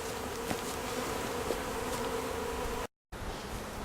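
A dense honeybee swarm in Cupertino, California buzzes continuously, a steady droning hum with a brief cut-out near the end.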